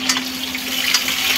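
Onions fry in a hot pan for Maggi noodles, giving a steady, close crackling sizzle with small pops, alone and with no talk, over a faint constant hum.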